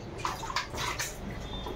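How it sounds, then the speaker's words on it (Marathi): Water is poured over a small boy's head at bath time, a close splashing gush with a few bright slaps of water, brief and fairly soft. "आता काय करा, टाका त्याच्या डोक्यावर पाणी"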